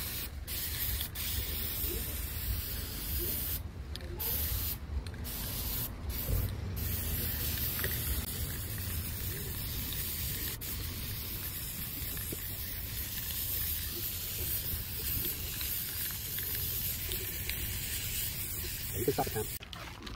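Aerosol spray paint hissing through a stencil onto a lawn to paint an NFL logo, a long steady spray broken by a few brief pauses.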